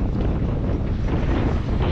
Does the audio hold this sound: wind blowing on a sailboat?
yes